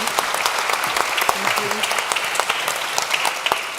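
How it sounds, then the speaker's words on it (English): A conference audience applauds steadily throughout, a dense crowd of clapping with a brief spoken thank-you over it. "A big applause."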